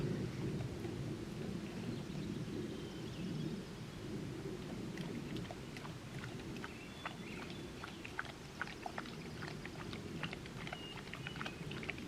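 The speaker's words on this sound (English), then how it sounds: "That was a lot of rain." Heavy rain pours down steadily outdoors at a campground, a dense continuous wash with scattered louder drops striking nearby surfaces and no talking.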